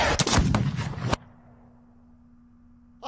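A loud, sharp gunshot rings out in a duel scene from the Hamilton animated musical, with booming and crackling over music and then a sudden cut to near silence with a low hum.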